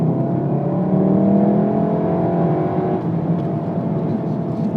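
A 2017 Volkswagen Golf R engine revving high with a loud, steady, buzzy drone and rising harmonics that hold near the top of the rev range, with no pause for the whole stretch.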